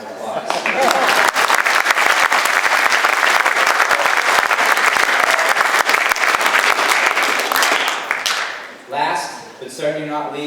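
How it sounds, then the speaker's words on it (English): Banquet crowd at a spring sports awards dinner applauds the coaches, dense, loud, sustained clapping for several seconds that then tapers off as a voice starts speaking. "Would you please give them a round of applause?"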